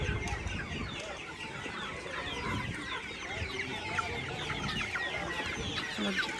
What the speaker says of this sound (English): Your chickens.